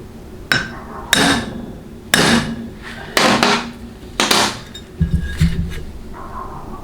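Six sharp metallic hammer whacks land at irregular intervals on a 6L80 transmission pump during assembly, close and ringing briefly, with no talk between strikes.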